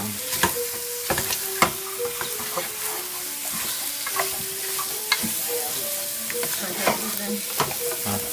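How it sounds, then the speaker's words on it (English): Crumbled meat frying in a pan, a steady sizzle broken by repeated scraping and stirring knocks from a utensil, with no talking. "You want to crumble it up as fine as you can in the pan. And it'll start to cook down."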